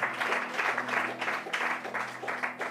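A church congregation applauds in praise of Jesus Christ, a steady wash of many hands clapping together at moderate loudness, with a low sustained hum underneath and no talking.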